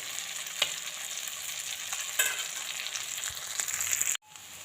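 Chicken pieces fry in a pan during a quick chicken fry, giving a steady close sizzle broken by a few stirring scrapes before it cuts off abruptly near the end; nobody speaks.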